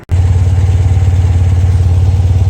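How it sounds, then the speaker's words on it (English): A carbureted engine being tuned for carb balancing catches and settles into a steady, loud, throbbing idle with an even pulsing rhythm after a brief start. "Let me pause and start the engine."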